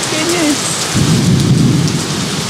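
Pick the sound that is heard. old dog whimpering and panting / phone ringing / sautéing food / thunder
thunder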